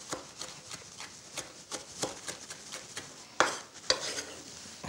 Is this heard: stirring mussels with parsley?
yes